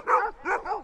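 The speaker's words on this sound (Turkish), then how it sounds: "Bir sürü köpek var burada." Several dogs bark at a horse on a beach in an Alaçatı cove, three close, loud barks in quick succession.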